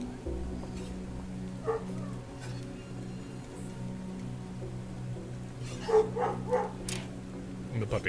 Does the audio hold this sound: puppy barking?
yes